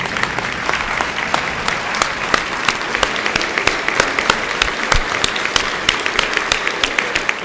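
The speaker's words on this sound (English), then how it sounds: "everyone standing and giving yourself a final round of applause" A standing audience at a Rotary Club meeting gives a final round of applause, a dense, steady wash of many hands clapping that fills the room from start to finish with no voices.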